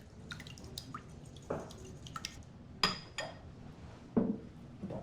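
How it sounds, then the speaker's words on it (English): Wet granola ingredients are whisked together in a bowl, giving soft, close clinks and liquid splashes spread irregularly over several seconds, quiet and with no talking. "Whisk this together."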